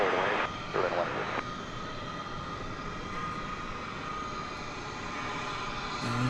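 A Frontier Airlines jet at DFW Airport gives a steady, moderately loud engine roar throughout, with louder broadband bursts near the start and end.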